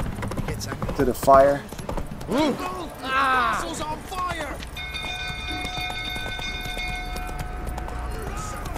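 Hooves of a horse galloping in The Witcher 3, a quick rhythmic clip-clop run heard among game sounds, with someone talking over it briefly.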